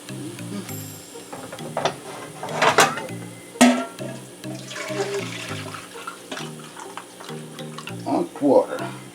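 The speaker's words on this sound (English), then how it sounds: "Put the hot water in now." Hot water poured into a pot of Jamaican oxtail stew, splashing and gurgling in uneven bursts over a low repeating background hum.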